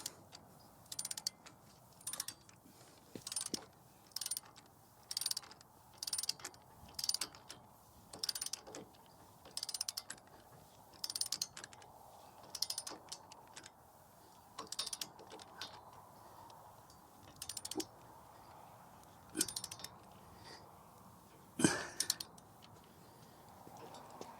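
A ratchet fitted with a 24 mm socket tightens a bolt on a Victory TANK-86 heavy-duty ditch bank flail mower, clicking in quick bursts that repeat in a steady rhythm with short pauses between strokes.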